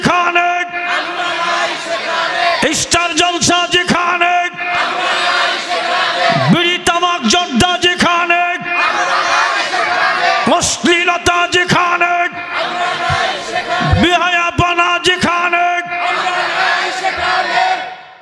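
A large crowd at a Bengali religious sermon gathering shouts the takbir loudly and repeatedly in powerful rhythmic waves, voices roaring in unison with sharp peaks between chants.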